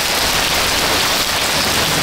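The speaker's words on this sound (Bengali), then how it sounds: "দেখুন বিশাল বৃষ্টি নেমে গেছে" Heavy rain pours down steadily during a thunderstorm, a loud, dense, continuous hiss of water with no breaks and no voices.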